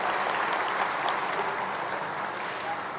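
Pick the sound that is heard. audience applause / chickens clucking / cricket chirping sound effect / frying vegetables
audience applause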